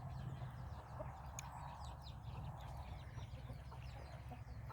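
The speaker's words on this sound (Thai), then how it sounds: "ไก่แจ้ะไก่แจ้กำลังกินข้าวนะครับ" Bantam chickens cluck steadily in a farmyard as they eat rice, the low close clucking continuous throughout, with faint chirps of other birds in the background and no talk.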